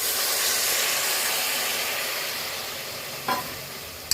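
Macaroni cooks in a pan with beetroot juice stirred in, giving a continuous close sizzle and hiss, followed by a couple of brief sharp knocks of a utensil near the end.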